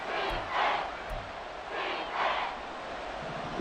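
Crowd noise fills a football stadium in Madden NFL 24, a steady roar that swells in two waves of cheering, with no talk over it.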